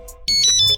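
A car alarm gives a short electronic chirp as it is disarmed with the remote: a brief, close, tonal beep lasting about half a second.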